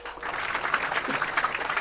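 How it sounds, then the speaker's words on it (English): An audience applauds at the launch of Ghana's Knowledge and Skills Bank portal, with a dense, steady patter of many hands clapping through the whole stretch. "Shall we applaud our children and grandchildren?"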